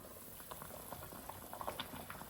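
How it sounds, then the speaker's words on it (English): Curry sauce with eggs boiling gently in a covered pot, a steady close bubbling and popping with small irregular blips throughout, no voices. "bring that to a gentle boil"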